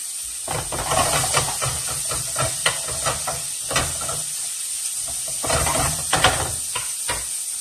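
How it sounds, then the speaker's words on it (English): Ground beef browns in a hot pan with a steady, loud sizzling hiss, broken by occasional scraping and stirring clatters. "the beef is almost browned up right now"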